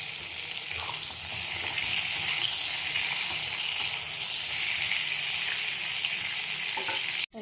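Pointed gourd (potol) frying in a pan, a dense steady sizzle with soft stirring under it, close and even throughout, cutting off sharply at the end.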